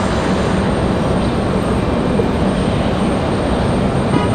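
An American Airlines airliner arriving at Raleigh-Durham International roars as a loud, continuous broadband engine rumble that stays steady throughout, near and without talk.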